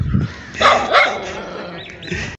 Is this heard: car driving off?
no